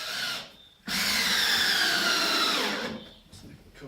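Close power drill whirring for about two seconds as 8x3 screws are driven up through a timber gable on a workshop or garage kit, the motor starting abruptly, holding steady, then winding down, with short quieter pauses either side.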